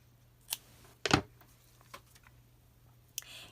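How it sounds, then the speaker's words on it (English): Scissors snipping navy blue and rose gold ribbon for a rose-themed journal craft, a few faint sharp snips spread apart in a quiet room, one slightly louder cut near the start, with no talk. "you're going to cut 2 lengths of the navy blue and rose gold ribbon"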